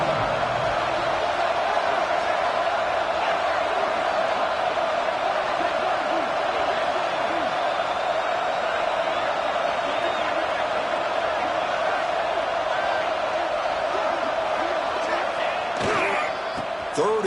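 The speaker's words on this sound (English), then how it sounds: "This crowd is trying to inspire this defense to make a big red zone stop." Stadium crowd in the video game College Football 26 roars in a dense, continuous wall of noise at a red zone stand, loud and sustained throughout, with a brief thump near the end.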